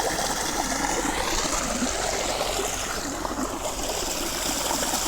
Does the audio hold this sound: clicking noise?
no